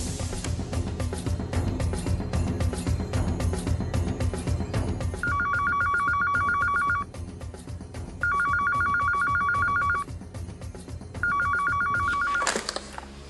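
A telephone bell rings in three repeated bursts, each lasting about a second and a half with short gaps between them, cutting in over a busy background of music and noise that fills the first five seconds.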